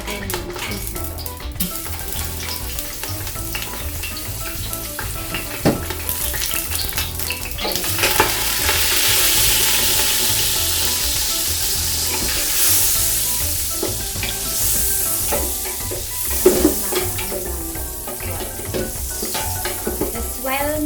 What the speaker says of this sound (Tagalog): Tapos while na melt yung butter